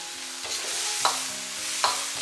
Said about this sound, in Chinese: 然后大火给它翻炒均匀，炒出锅气，大概给它炒1分钟左右